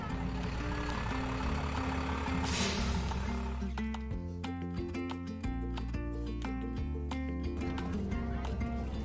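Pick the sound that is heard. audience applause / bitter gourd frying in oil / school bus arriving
school bus arriving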